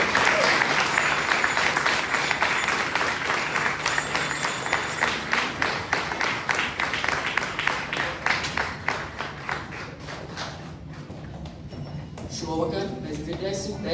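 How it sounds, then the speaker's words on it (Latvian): Loud applause from an audience at a music and art school's Christmas concert, with a dense burst of clapping that settles into rhythmic clapping and then fades out. "Veltīsim vēlreiz skaļus aplausus."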